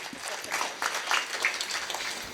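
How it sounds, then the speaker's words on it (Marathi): Audience at a Warkari kirtan in Shrikshetra Nimboli gives a short, scattered round of applause, individual handclaps standing out rather than a dense wash, moderately faint. "त्यांच्याकरता एकदा जोरात टाळ्या वाजवा."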